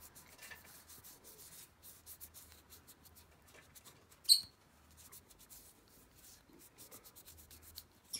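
Latex is rubbed off the helmet of a custom Mandalorian bounty hunter figure: faint, steady close rubbing strokes with one brief sharper squeak partway through.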